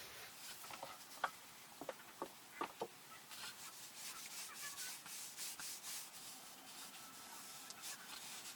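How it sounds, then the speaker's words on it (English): A rag rubs tung oil onto a wooden chopping board in soft, faint, repeated strokes, with a few light knocks early on. "I just apply it with a rag"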